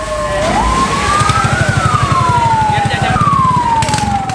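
Fire truck siren wailing and rising and falling at a house fire, loud and close over a rumbling idling engine, with a second siren tone overlapping toward the end.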